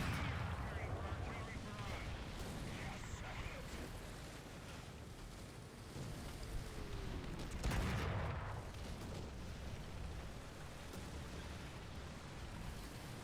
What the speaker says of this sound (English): it seems like everybody's calling artillery here